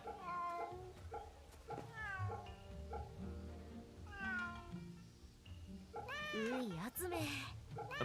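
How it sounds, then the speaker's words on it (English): A cat in the video game Fate/Samurai Remnant meows repeatedly, rising and falling calls with one long drawn-out caterwaul near the end, heard over soft background music. "What a friendly cat."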